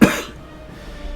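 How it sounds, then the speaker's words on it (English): A single sharp cough, close and loud, fades quickly into quiet room noise. "Bear with me as I'm coughing and sounding like rubbish"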